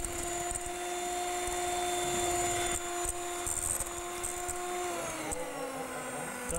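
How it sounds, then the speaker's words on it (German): Kitchen mixer whirring steadily as it grinds into a glass bowl during a TV cooking show, a sustained high motor whine with gritty scraping, dropping slightly in pitch near the end as the load changes. "Das ist der Erste, der mit dem Mixer ein Loch in eine Glasschüssel bohrt."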